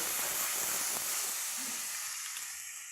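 Red wine poured into a hot pan where steak was just cooked, giving a loud steady sizzle and hiss that gradually fades as the liquid settles.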